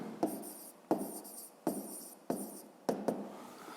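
Pen strokes on paper as a handwritten maths answer is jotted down, five short scratchy bursts in an uneven rhythm, close and fairly quiet, with no talking.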